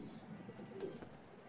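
A single soft pigeon coo rises briefly from quiet outdoor background, faint and somewhat distant.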